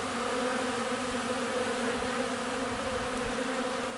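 Dense, continuous buzzing of many honeybees flying close by around an opened hive, a steady droning hum with no talking.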